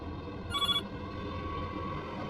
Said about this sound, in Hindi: एक अननोन नंबर से कॉल आया और मैंने तुरंत उठाया।